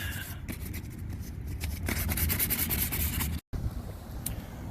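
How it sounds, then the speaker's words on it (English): Hand sanding on a car wheel rim being prepped for paint, a steady abrasive rubbing with repeated strokes, close and moderately loud, broken by one brief pause near the end. "I should get back to sanding"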